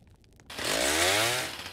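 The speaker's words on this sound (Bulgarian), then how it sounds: "Аз използвам резачката," A chainsaw in the Roblox game 99 Nights in the Forest starts up after a brief quiet moment and then roars loud and close, rising in pitch as it revs.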